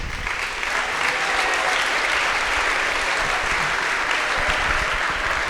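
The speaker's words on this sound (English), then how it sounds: "So once again, a round of applause for our boosters." Dense, steady applause from an audience at an athletic awards ceremony, a full crowd clapping loudly and evenly throughout with no pauses.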